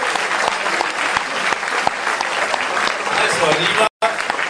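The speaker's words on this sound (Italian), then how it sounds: "merita un nostro grande applauso, l'assessore Alessandro Gardini" Audience at a lecture on alien abductions applauding the culture councillor, a dense, steady clapping throughout, with someone speaking briefly and a short dropout near the end.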